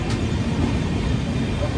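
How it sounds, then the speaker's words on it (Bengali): The Kanchankanya Express rolls along after pulling out of Dakshineswar, giving a close, continuous low rumble with faint clatter from the wheels and carriage, steady and unbroken throughout the short stretch. "9টা বেজে 2 মিনিট এখন কিন্তু আমাদের ট্রেন ছেড়ে দিল দক্ষিণেশ্বর থেকে।"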